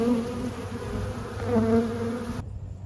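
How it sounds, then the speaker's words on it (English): Swarm of honey bees buzzing densely around their queen during a hive rescue, a steady close drone with wavering pitch that cuts off abruptly near the end. "All these bees are really coming after her too."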